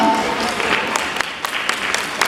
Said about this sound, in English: Let's give her a round of applause as she says so.